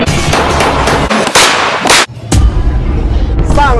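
A Retay Baron HK blank gun fires loud, close blasts, with several sharp reports and heavy booming echoes running together over a noisy background.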